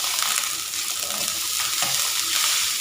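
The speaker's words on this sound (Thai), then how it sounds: "ผัดพริกแกงให้หอมแล้วค่อยเอาหมูลงนะ" Red curry paste sizzles loudly in hot oil in a wok, a steady broadband hiss with occasional spatter and stirring scrapes, close and continuous with no voices.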